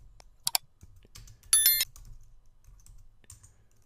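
A terminal command is typed on a computer keyboard: a few sparse, quick key clicks and one short, sharper burst of keystrokes over a quiet room.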